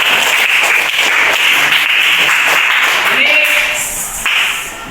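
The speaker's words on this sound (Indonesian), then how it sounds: "Beri tepuk tangan untuk kalian." Students in a classroom clap together, a loud burst of many hands that fades slightly toward the end, with a voice speaking briefly over it.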